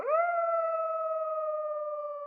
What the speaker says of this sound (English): listened to some coyotes howling